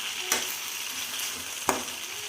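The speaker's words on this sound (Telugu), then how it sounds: "టమాటాలు బాగా మగ్గిన తర్వాత బెండకాయలు వేసుకొని బాగా వేపేసుకోండి" Okra frying with tomatoes in a pan, a continuous soft sizzle broken by two sharp stirring knocks.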